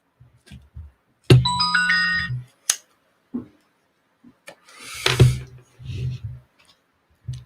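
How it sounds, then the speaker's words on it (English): A telephone rings with a short electronic trill near the start, followed by sparse clicks, a brief burst of noise and a few quiet low voices in an otherwise quiet room. "that's the phone ringing off the hook."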